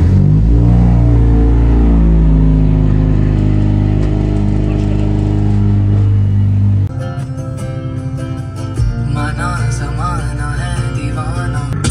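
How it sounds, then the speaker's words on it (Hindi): Honda Civic engine starts up loud and close, a rising rev with strong harmonic drone, then settles into a rougher, lower idle with fluttering mechanical texture and a brief blip. "तो इसको थोड़ा स्टार्ट कर देते हैं फिर निकलते हैं।"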